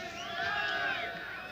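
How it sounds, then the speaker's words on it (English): Distant crowd cheering for the Delta Commando team during a televised news event, a blended mass of raised voices and shouts swelling slightly in the middle, heard faintly as if over a broadcast feed. "That cheering that you hear is for the Delta Commando team"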